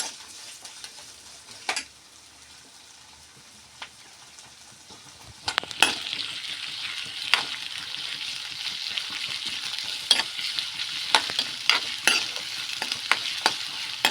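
A generous handful of garlic sautéed in a pan, starting with a quiet low sizzle and a few spatula knocks, then swelling into a brighter steady frying hiss with frequent sharp scraping clicks of stirring.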